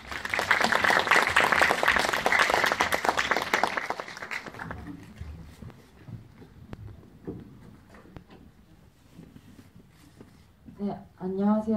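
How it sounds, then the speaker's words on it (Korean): An audience claps in a talk event hall to welcome an actress guest, a loud burst of applause for about four seconds that then fades, followed by quieter room sounds and a voice at the end. "큰 박수로 맞이해주세요."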